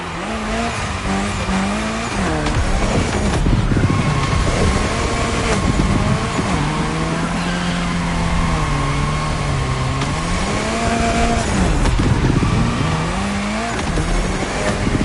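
A car drifting in a racing video game produces a loud, continuous engine drone with wavering revs and long squealing tire skids, sustained throughout without voices.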